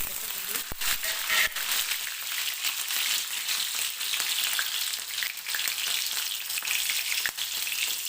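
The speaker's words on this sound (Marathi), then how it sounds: "लसूण छान भाजत घ्यायचं आपल्याला लसूण भाजत आलं" Garlic fries in hot oil in a pan for fenugreek greens, a continuous bright sizzle and crackle with occasional stirring scrapes, heard close and steady throughout.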